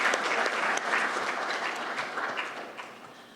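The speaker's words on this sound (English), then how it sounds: "One more round of applause for our finalists." Sustained audience applause for finalists at a university business competition, a dense wash of clapping that holds steady and then tapers off slightly toward the end.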